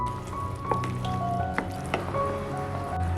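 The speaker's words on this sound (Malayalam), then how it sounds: "ആവശ്യത്തിനുള്ള ഉപ്പ് ചേർത്തിട്ട് ഒന്നുകൂടെ മിക്സ് ചെയ്യാം" Salt being mixed into fermented coconut dosa batter, with soft wet squishing and sticky, gloppy stirring sounds in irregular strokes, close and moderately quiet.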